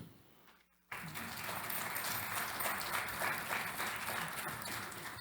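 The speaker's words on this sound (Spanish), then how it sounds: "lo recibimos con un fuerte aplauso" Audience applause at a pediatric palliative care symposium starts abruptly after a near-silent second, then continues as a steady, dense wash of clapping from a large crowd, loud and sustained to the end.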